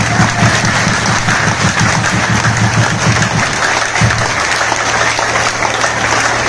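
Loud applause from a seminar audience in Rohtak, a dense continuous wash of clapping over a steady low hum, holding strong for several seconds before thinning slightly near the end.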